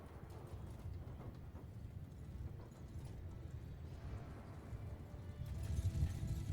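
A low, continuous rumble of many horse hooves pounding at a gallop in Mount & Blade II: Bannerlord, dense and distant, swelling slightly louder toward the end.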